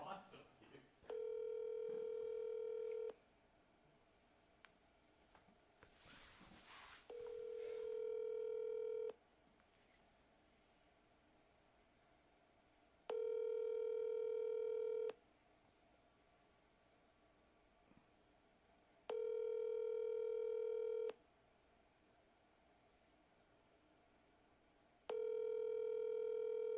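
Telephone tone on a line while a call is being placed, with five steady buzzing bursts of about two seconds each separated by longer pauses, clear over faint background hiss.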